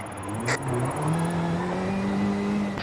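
A 2-litre turbocharged, front-mounted Ford Focus RS RX engine with all-wheel drive in the racing game Forza Horizon 5, droning steadily and climbing in pitch as it revs, loud and close, with no talk over it.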